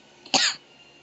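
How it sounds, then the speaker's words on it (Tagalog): A single short cough, fairly close, with a faint rough breathy tail against quiet background. "inuubo na naman ako"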